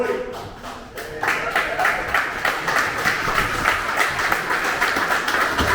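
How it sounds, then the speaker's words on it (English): An audience at a live Melbourne Silicon Beach meetup applauds, a dense, steady patter of many hands clapping that starts after a brief quieter moment and continues evenly to the end. "Thank you for the applause."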